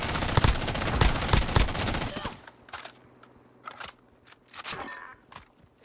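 Rapid bursts of MP5 submachine gun fire in Call of Duty: Warzone, loud and dense for the first two seconds, then sparser distant shots and clicks follow.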